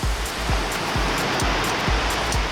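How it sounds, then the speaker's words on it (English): Ocean waves crash steadily at Bondi Beach, a loud continuous roar of surf with repeated low thumps as sets of breakers hit, close and dense with no voices. "The waves are crashing in."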